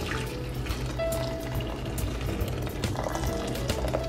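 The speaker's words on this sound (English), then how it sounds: "And some boiled water. I just boil it in the kettle beforehand and cover the meat." Boiled water from a kettle poured into a pot over a blended mixture and meat for birria, a steady close gurgling pour with a continuous busy liquid wash throughout.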